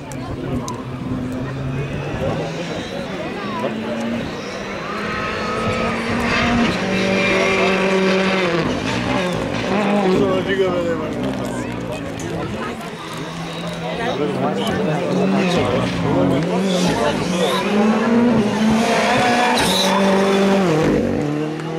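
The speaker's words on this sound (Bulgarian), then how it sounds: "за първи път в български пилот такава кола от революционно новата версия R5." An R5 rally car at full attack on a super special stage of Rally Tvardica 2013, engine roaring and surging through gear changes with tire squeal, loud and close, while a commentator talks over it.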